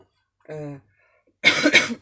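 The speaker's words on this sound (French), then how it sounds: "C'est pour ça que je tousse." A short harmonic vocal sound, then a harsh, noisy cough in two quick bursts, close and fairly loud.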